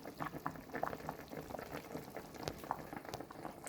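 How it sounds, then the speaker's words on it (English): Pork boiling in a pot of water with scotch bonnet pepper bubbles steadily, a dense close burble of popping bubbles at a low, even level with no voices. "I like to boil off my pork with some scotch bonnet pepper."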